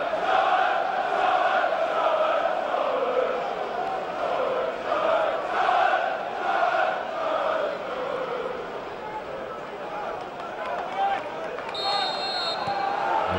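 A stadium crowd roars and chants steadily at a Luton Town versus Charlton Athletic football match, loud and sustained, with a voice talking over it.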